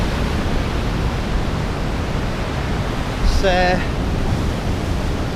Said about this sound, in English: the waves coming in here